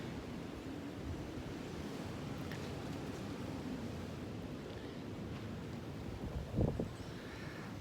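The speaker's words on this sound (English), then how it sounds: "look at that wind blow. Can you hear it?" Strong wind gusts roar steadily outdoors during an Ohio snow storm, a constant broad rush with a brief louder buffet near the end, with no voices.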